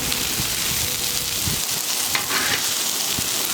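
Venison chorizo and potatoes fry in a pan, a dense steady sizzle with scattered crackles and a few soft stirring knocks.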